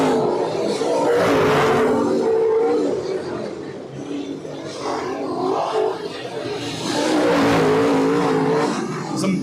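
Dirt track race cars roar around the Deadhorse Creek Speedway, their engines rising and falling in loud waves as they pass, with no talk over them.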